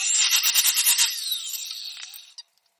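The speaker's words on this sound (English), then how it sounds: "We're going to be cutting it at 28 inches." Metal tube for a drift trike axle notch being cut, a loud rhythmic rasping saw stroke repeating about eight times, then a fading scrape and a brief clink at the end, with no talking.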